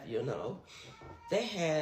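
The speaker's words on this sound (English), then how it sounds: "you might hear my cat in the background" A house cat meows in the background during a night-shift home setting, with a clear cry near the end while a person keeps talking over it.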